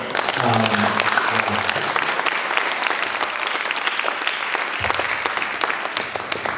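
Steady applause from a sizable audience fills the whole stretch, dense and continuous, with a low voice briefly audible beneath the clapping early on.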